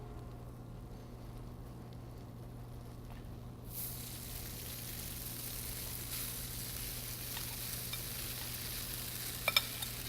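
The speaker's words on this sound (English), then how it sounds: "So again, nice gentle heat with the spatzle, so you get the nice foaming going on." Spätzle sauté gently in foaming butter with a quiet, steady sizzle that swells noticeably partway through, plus a couple of faint utensil taps near the end.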